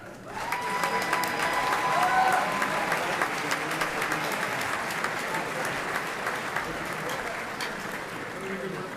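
A graduation ceremony crowd applauds the graduates with sustained, dense clapping that swells early and then holds steady, with a voice briefly audible near the start.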